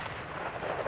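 A black powder muzzleloader shotgun fired while shooting over a covey gives a loud, close blast with a dense, sustained rumbling roar filling the whole short moment.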